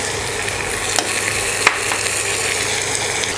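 Tomato pieces fry in hot oil for vada curry, a steady close sizzle running throughout with a few sharp scrapes of a spoon stirring the pan, no voices.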